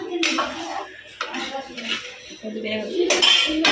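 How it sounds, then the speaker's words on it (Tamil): A pot of fish curry with raw mango being stirred, a spoon clinking and scraping against the metal in an uneven rhythm, close and fairly loud throughout. "மீன் குழம்பு நல்லா இருக்கணும்னு நல்லா கிண்டிக்கலாம்"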